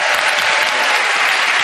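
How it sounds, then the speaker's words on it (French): Studio audience at a French TV game show applauds a contestant, a short, dense burst of loud clapping filling the room with no pause. "On applaudit."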